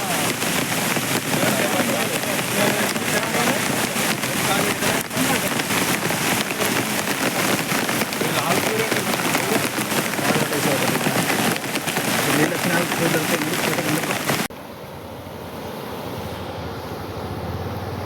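Heavy rain pours down steadily as a dense, loud wash across most of the stretch, then drops abruptly to a softer, more distant patter near the end.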